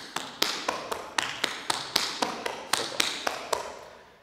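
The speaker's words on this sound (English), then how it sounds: "double, double cramp roll, single. On the right, it's going to sound like this." Tap shoes strike a hard floor in a double, double cramp roll, single pattern, about a dozen crisp, close, loud taps in a steady rhythm with no voice over them.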